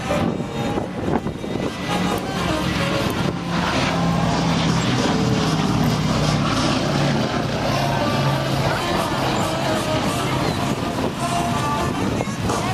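A warbird aircraft passing at an airshow, a loud sustained engine roar mixed with wind buffeting on the microphone, with crowd noise and faint voices underneath.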